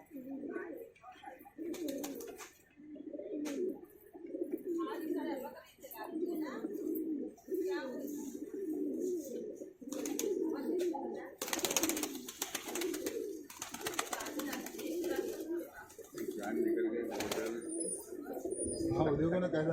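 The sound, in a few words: pigeons cooing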